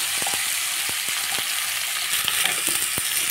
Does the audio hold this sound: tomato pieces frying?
yes